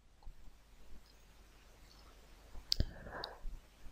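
Computer mouse clicks in VMware Converter, a couple of sharp, close clicks near the end over a quiet background.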